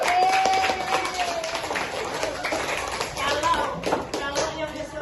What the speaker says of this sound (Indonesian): Ya, tepuk tangan untuk Nurul.